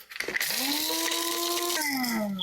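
Electric spice grinder whirring through coriander seed and whole spices: a short, close, high-pitched motor buzz that revs up, holds for about a second and a half, then drops in pitch as the load changes.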